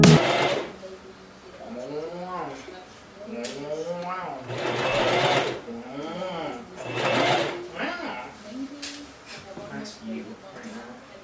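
A sewing machine stitching a dress runs in several close, whirring bursts of varying speed and pitch, with people talking between and over the runs.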